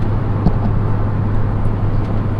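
A car speeds along a motorway at about 110–120 km/h with its steering wheel shaking from a wheel balance fault, giving a steady loud cabin drone of engine and road noise with a low hum, no talking.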